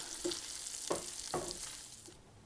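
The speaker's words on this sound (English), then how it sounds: "Frying up my bacon." Bacon sizzles and crackles steadily in a hot pan, with a few scraping stirs breaking through the constant frying hiss.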